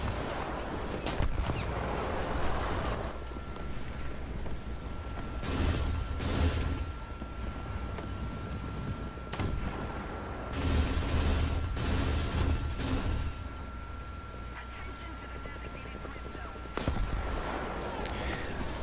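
Rapid bursts from an R3 autocannon in War Thunder, set on an Alpine battlefield, come in loud rattling volleys separated by quieter stretches with a steady background hum and no talking.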